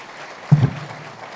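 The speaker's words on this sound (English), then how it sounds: "Let's give them both a big round of applause." Brief burst of applause from a State of the City business lunch crowd, a short clap lasting well under a second before fading to room quiet.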